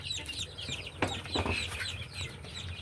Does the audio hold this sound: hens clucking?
yes